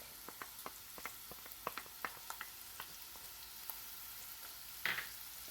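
Garlic and half a cup of onion fry quietly in a pan for creamy cheesy pasta, with a low steady sizzle broken by small pops and crackles and one brief louder scrape near the end.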